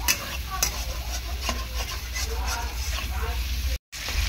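Prawns and young jackfruit being stirred and sautéed in a pan, with a scraping spatula, a soft sizzle and occasional clinks of the utensil against metal, continuing steadily before a brief drop-out near the end.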